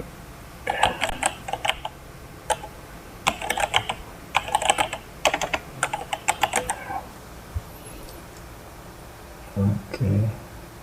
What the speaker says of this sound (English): I will type name